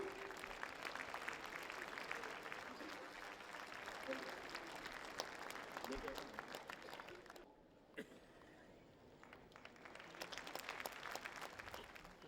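An audience applauds an honoree at a Maharshi Dayanand Saraswati 200th birth anniversary event at Bharat Mandapam, New Delhi: sustained dense clapping with a brief lull partway through, and faint voices in the background.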